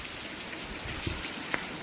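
Steady monsoon rain falls with a soft, even hiss on surfaces near a flooded farm field, with a couple of faint drips standing out and no talking.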